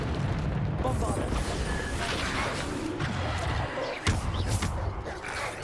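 Bombarda spell explosions during combat in Hogwarts Legacy, heavy booming blasts and crashing debris layered over a dense battle din, with a voice calling out spell names on top.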